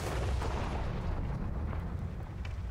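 Tank main gun firing in a video game, a heavy low boom with a long rumbling tail that fills the whole stretch at steady loudness.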